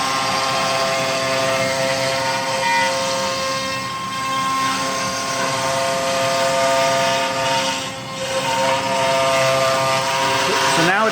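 A CNC router cutting tabs through material at a raised feed rate, giving a loud, steady, tonal machine whine with layered harmonics that dips briefly a couple of times.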